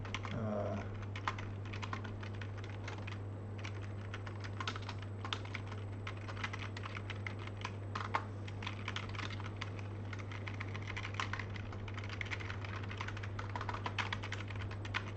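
Fast, continuous typing on a computer keyboard with a sticky S key, dense irregular key clicks running throughout at steady moderate loudness over a constant low hum, with no voices.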